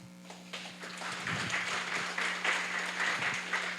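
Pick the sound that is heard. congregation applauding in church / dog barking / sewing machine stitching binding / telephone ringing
congregation applauding in church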